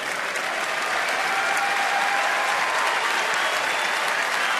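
Sustained applause from a baseball stadium crowd while staff tend to an injured fan at a Mets–Nationals game, dense even clapping filling the whole stretch at a constant level.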